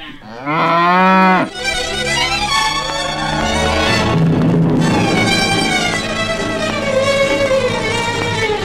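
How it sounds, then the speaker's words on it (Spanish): A cow lows in a long, loud, drawn-out moo on a farm corral, followed by a second sustained bellowing call with a strained, plaintive tone, heard alone without talk. "La vaca aquella mugía de un modo raro, Wiliberto."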